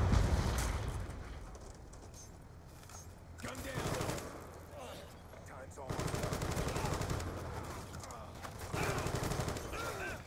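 AN-94 rifle fire in a video game, bursts of rapid shots rising and falling over a steady battle din, with faint talk underneath.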